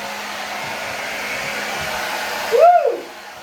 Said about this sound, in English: Blow drying your hair from a step stool, very different.